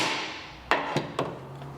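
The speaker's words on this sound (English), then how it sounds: "set that up on a wooden block and just give it a swift strike with a hammer" Three sharp hammer strikes on a hole punch set on a wooden block land in quick succession, close and distinct, the first loudest, with a faint hum between hits.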